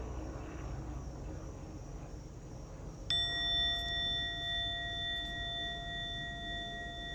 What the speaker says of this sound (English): you'll hear a bell or a chime. Listen to it as it gets quieter and quieter